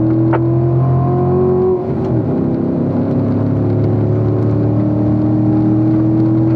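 A Corvette on the Spring Mountain race track pulls hard in fourth gear during a racing school session, its engine droning loudly and steadily close up, pitch holding at high revs.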